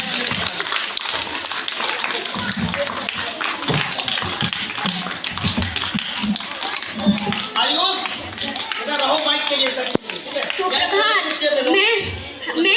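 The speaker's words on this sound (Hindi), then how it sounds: "बच्चों तालियां रुकनी नहीं चाहिए" Schoolchildren clapping together in a classroom after a story-telling performance at KV Araria, a sustained patter of many small hands, steady and fairly close, with chatter and voices mixed in.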